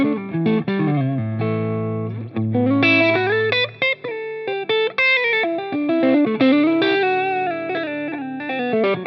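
Electric guitar on its single-coil neck pickup through a Line 6 Helix, a clean, bright run of picked notes and short chords played alone, with faint hum between phrases.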